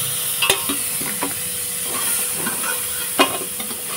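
Crab pieces fry lightly in hot oil for a spicy Bengali crab curry, a steady close sizzle and hiss broken by a few sharp clinks of a stirring utensil against the pan.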